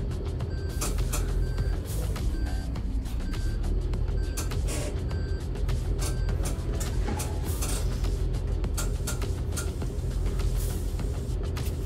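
Reversing beeps from a truck in Euro Truck Simulator 2, a steady run of evenly spaced electronic tones repeating over continuous engine and road noise, with no one speaking.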